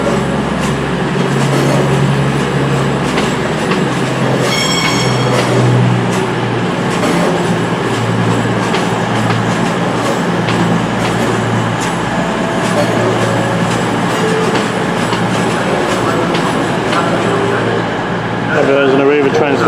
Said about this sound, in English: Now leaving with the 9:30 cross-country service to Newcastle